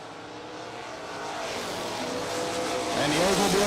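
Drag racing cars, a Roadster and an Oldsmobile, at a bracket racing event, engines roaring and rising in a building rumble that swells louder toward the end, heard from a distance with crowd and announcer chatter mixed in.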